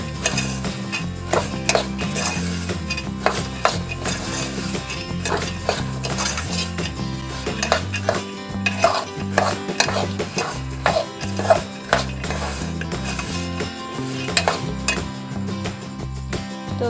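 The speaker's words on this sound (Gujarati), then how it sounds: "હવે તેને આપણે એકદમ સારી રીતે મિક્સ કરી લઈશું" A spoon stirs masala peanuts with garam masala and ground sugar in a bowl, producing continuous scraping with repeated clinks and taps, close and fairly loud, with no talking.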